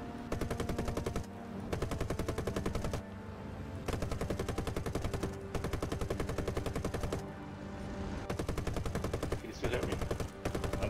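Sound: tail gunner machine gun fire in video game War Thunder

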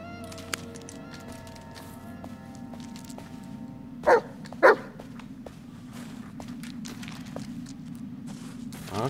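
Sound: dog Bullet barking and running in video game Blair Witch

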